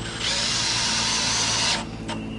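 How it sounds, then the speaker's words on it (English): A power drill drives screws into timber while fitting a window on a 70mm Cabin Life cabin kit: one steady, loud, close whirring run of about a second and a half that then stops, leaving faint handling noise. "we screw it in"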